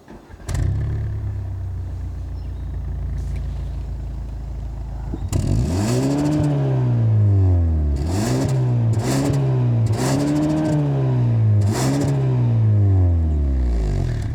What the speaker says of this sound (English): Let's finally hear that engine though.